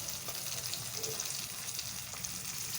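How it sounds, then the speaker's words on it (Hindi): Spices frying lightly in hot oil for a tadka, giving a steady, soft sizzle with faint crackles throughout, close by and with no talking. "और इन्हें भी हल्का सा फ्राई करेंगे। ये बाकी मसाला था, अब ये भी इसमें शामिल करेंगे हम अपने बघार के अंदर।"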